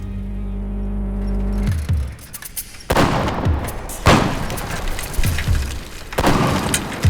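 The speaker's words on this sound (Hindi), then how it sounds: "अंग्रेज हमारे पीछे बढ़ गए, गोलियां चलने लगी।" British soldiers open fire in pursuit in a period short film, with three sharp, loud gunshot cracks spaced a second or two apart after a low engine-like rumble.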